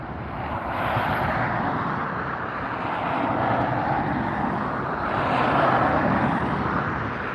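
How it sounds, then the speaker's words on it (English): Steady, broad roar of aircraft engines fills the air at Los Angeles International Airport (LAX), rising and falling gently in loudness as planes move nearby, with no speech over it. "We are at Los Angeles International Airport, LAX."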